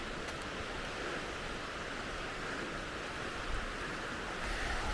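Soft, even rush of falling water from a waterfall at Stone Mountain State Park, a faint continuous wash with no voices.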